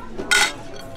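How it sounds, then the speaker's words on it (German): A toast among friends at a gathering, with a short bright glass clink ringing out once at close range, preceded by a faint murmur. "und jetzt sind wir auch motiviert, erstmal Sarah willkommen zu heißen und mal anzustoßen"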